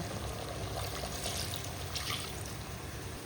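Steady water pouring into a pot, a continuous splashing trickle with no pauses, fairly close and moderately quiet.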